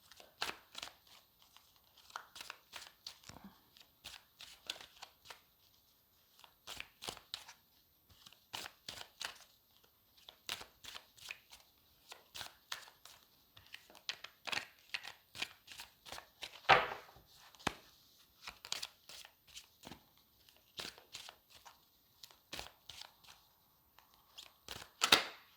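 Tarot cards being shuffled and drawn during a reading, a quiet close series of quick papery riffles and soft snaps in short bursts with brief pauses between them.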